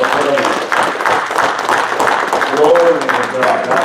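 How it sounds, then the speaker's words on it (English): Church congregation clapping in praise during a worship service, a steady wash of many hands close by, with voices calling out over it throughout. "Give the Lord a hand clap of praise"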